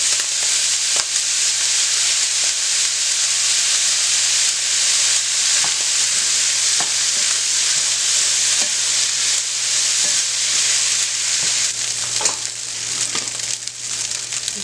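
Frozen vegetables and soy sauce stir-fry in a pan, with a loud continuous sizzle and scattered scraping stirs throughout, no voices.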